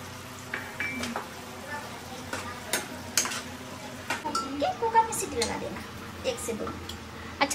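Curry being stirred and fried in a pan on a home stove, with soft sizzling and repeated scrapes and clinks of a spoon against the metal, under someone talking.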